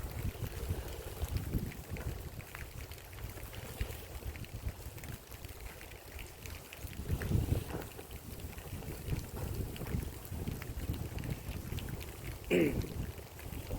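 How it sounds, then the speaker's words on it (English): Steady wind buffeting outdoors, a broad rumbling roar with gusts swelling and fading, no voices. "It's pretty windy."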